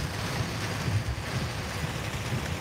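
Heavy rain drumming on a moving car, a steady dense hiss with a low rumble of the vehicle underneath, loud and unbroken with no talk.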